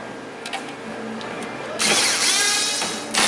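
Power tool working on the bumper fasteners of a 2013-2017 Toyota RAV4: quiet shop background, then a loud close whirring drill run starting partway through and continuing to the end.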